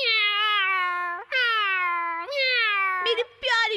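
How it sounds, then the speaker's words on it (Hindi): Cats meowing in a Ninja Hattori cartoon, three long drawn-out meows in a row, followed by brief chirpy cat calls, loud and close. "कितनी प्यारी बिल्लियां हैं।"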